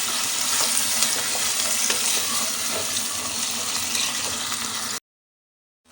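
Minced keema fries in a pan, a dense, loud sizzle with scraping stirs running steadily for about five seconds before cutting to silence.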